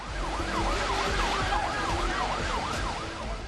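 A warning siren in Israel wails, sweeping up and down repeatedly, loud and steady throughout, with a low rumble of traffic underneath.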